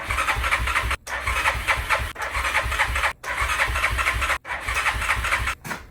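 A Kodiak ATV engine cranks over and over in long rhythmic bursts, each lasting about a second with short gaps between, loud and close, never catching.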